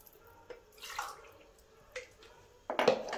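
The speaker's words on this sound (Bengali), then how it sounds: "4 কাপ জল দিলাম।" Water pours into a pot of ghugni, with brief splashing gushes and light drips, the last pour the loudest and closest.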